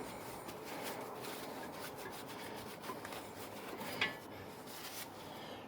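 Brake caliper slider pins from a 2008 Audi A4 are rubbed and wiped clean by hand, a continuous close scrubbing friction with one brief knock near the end.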